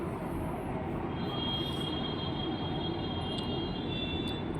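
An LRT light rail train runs nearby at night, a steady loud rumbling roar with faint high squeals from the wheels on the rails, continuous throughout.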